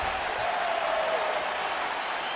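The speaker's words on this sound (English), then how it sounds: "standing ovation from this capacity crowd" A capacity crowd at a UFC fight gives a standing ovation after the final horn, producing a dense, steady wash of applause and cheering that stays even and distant for the whole stretch.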